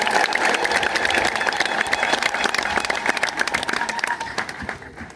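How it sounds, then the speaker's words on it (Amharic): A church congregation applauds together, dense steady clapping from many hands that thins and fades toward the end, with faint voices mixed in. "ፈቃዳችሁን በእልልታና በጭብጨባ ግለጹ"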